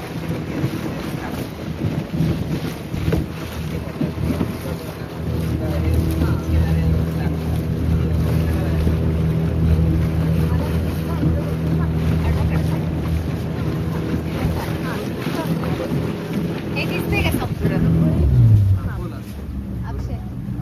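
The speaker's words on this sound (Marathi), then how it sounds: "ही वन विभागाच्या थ्रू आपण ही बोट चालवतोय." A forest department motorboat runs across the water on a mangrove safari at Devgad, its engine a steady, loud drone with wind buffeting the microphone, and the pitch sinks near the end.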